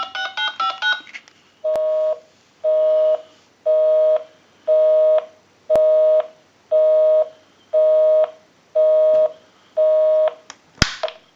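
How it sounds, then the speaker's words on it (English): A quick burst of keypad tones from a TS22 lineman's buttset, then a regular series of ringing tones, about nine evenly spaced pulses, ending with a sharp click. "We'll dial my number on the recall"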